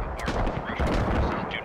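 Gunfire in the military shooter game Squad sounds as a dense, rumbling crackle of shots with a sharper report midway, heard close and loud in a busy battle.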